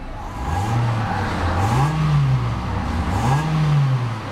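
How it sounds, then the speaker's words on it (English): A 2009 Mitsubishi Lancer ES engine revs up twice and settles back between them, a loud, close rising and falling drone with no talk. "So it revs up beautifully,"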